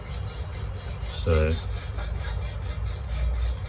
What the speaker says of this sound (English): this is aluminum. It's kind of like a softer sound.